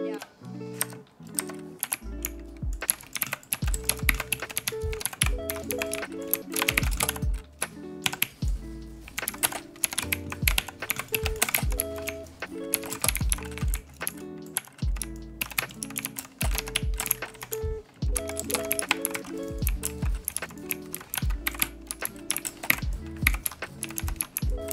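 Typewriter-style mechanical keyboard tapped continuously during Fortnite gameplay: clacky, irregular keystroke bursts close to the mic, mixed with game sounds and melodic background music throughout.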